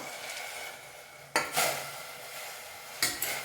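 Soft bubbling hiss, then a couple of sharp clatters and rustling splashes as chopped spinach greens are dropped into a pot of boiling water, with no one talking.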